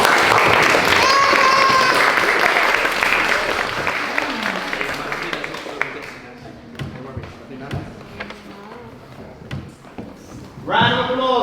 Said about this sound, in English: Okay, first of all, round of applause for Evie.